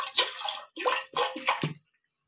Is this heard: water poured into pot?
yes